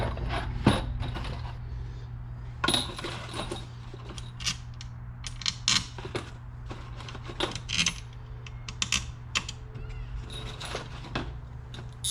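Screws go into an LTZ400 bottom end during assembly, heard as scattered close metallic clicks, taps and small rattles of parts and tools over quiet background.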